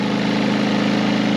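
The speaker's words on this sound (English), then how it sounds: "I have my generator running over there" A generator engine drones steadily and loudly nearby, outdoors, a constant low mechanical hum with no pauses.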